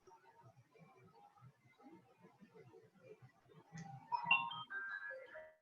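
A mobile phone rings with a bright electronic melody that rises over the last second and a half, following quiet, indistinct talk at a jewelry-making table.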